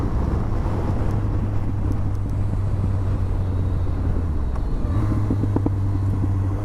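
A KTM 390 motorcycle carves through canyon corners, its engine a steady low drone under buffeting wind. The note dips briefly as the rider eases off, then climbs again, with no talk.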